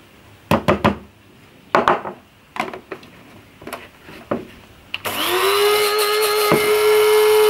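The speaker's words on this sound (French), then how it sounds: "je vais pulvériser mes graines de cumin toasté dans mon moulin à café" Coffee grinder pulverizing toasted cumin seeds: several short clattering taps as seeds are poured in, then the motor kicks on into a loud, steady high-pitched whir that runs to the end.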